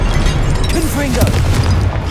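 Confringo fire spells from Hogwarts Legacy go off in a dense, loud barrage of booming blasts under a continuous wash of game noise, with a voice shouting spell names over them.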